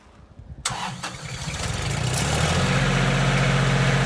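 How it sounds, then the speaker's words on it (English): A 2018 Lincoln Electric Classic 300HE engine-driven welder cranks briefly, catches and starts, then settles into a loud, steady idle rumble close by. "he's gonna fire her up and let you guys hear her run"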